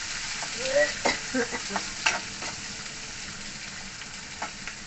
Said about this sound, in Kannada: ಅದು ಈರುಳ್ಳಿದು ಹಸಿ ವಾಸನೆ ಹೋಗೋವರೆಗೂ ನೀಟಾಗಿ ಫ್ರೈ ಮಾಡ್ಕೋಬೇಕು ಫ್ರೆಂಡ್ಸ್